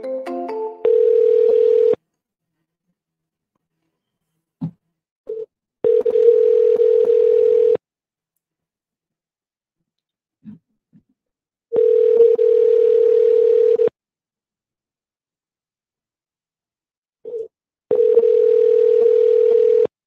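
A phone line gives a short burst of dialing tones, then rings out in four long, steady electronic tones separated by pauses, with faint brief clicks and beeps in the gaps between.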